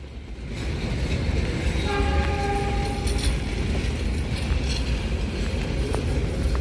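The Malabar passenger train, a stainless-steel rake on a mountain line, rumbles past nearby with a steady loud roar of wheels and carriages while its horn sounds a sustained tone in the middle.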